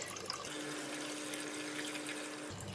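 Water runs steadily from a tap, a continuous rushing stream with a low rising tone as about 1.5 liters fill a pot, close by.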